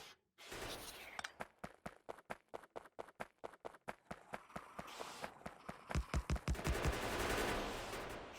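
Machine gun turrets fire in Factorio, a long run of evenly spaced sharp shots at a steady rhythm that speeds into a heavier, denser burst near the end.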